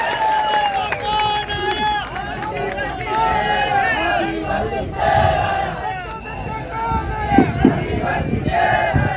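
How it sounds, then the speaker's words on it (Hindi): Crowd at a Bharat Adivasi Party foundation day gathering welcoming a tribal speaker, loud mixed cheering, shouting and scattered clapping with babble of many voices, fairly near and sustained throughout. "उनको जोरदार तालियों के साथ स्वागत करो दोस्तों"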